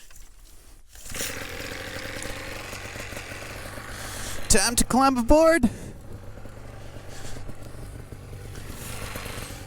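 A paramotor fitted with a huge engine idles steadily behind the pilot, a continuous low mechanical drone running through the clip, with someone speaking briefly over it midway.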